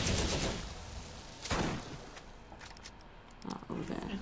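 Gunfire in the video game Borderlands, a loud burst of rapid shots at the start, another sharp blast midway and a further burst near the end, with quieter clatter in between and a voice speaking.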